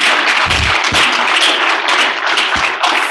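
Audience applause at an International Migrant Day celebration, a dense, steady wash of clapping filling the hall for the whole stretch, loud and continuous with no voices over it.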